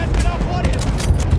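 Rapid gunfire in the video game Battlefield 1 crackles in a dense, loud burst, with booming low end and a voice mixed underneath.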